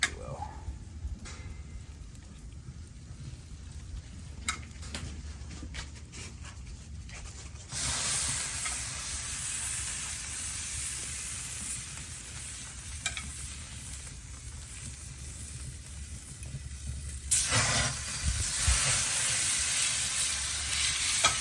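Rouladen going back into a pot make a steady frying sizzle with stirring and scraping, turning louder and brighter about halfway through and again near the end, with no talk.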